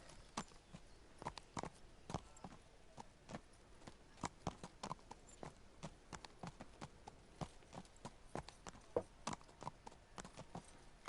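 Steady clip-clop of horse hooves walking at an even pace in the video game Kingdom Come: Deliverance, crisp and fairly close, with a faint ambient background and no talking.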